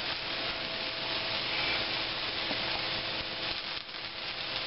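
A beef roast sears in a hot pan, a loud, dense, unbroken sizzle close up with no talking.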